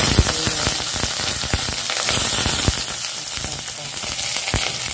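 Onions sizzle and crackle steadily in a hot frying pan, a dense close-up hiss broken by sharp pops, with no talking.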